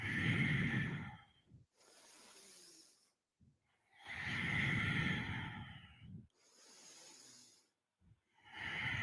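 Deep, loud breathing during a yoga side plank in a vinyasa power class: long drawn inhales and exhales alternate with quieter pauses, close and unaccompanied by talk.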